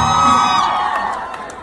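Concert crowd at a show on Valentine's Day, cheering and whooping loudly over a ringing sustained tone, the noise fading slightly toward the end.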